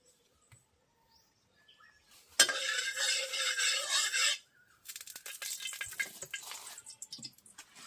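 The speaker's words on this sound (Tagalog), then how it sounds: "So ang gagawin natin ngayon ay magpiprito tayo" Ripe bananas dropped into hot oil in a pan, first quiet clinks, then a sudden loud sizzle that runs a couple of seconds and returns as crackling frying with utensil scrapes.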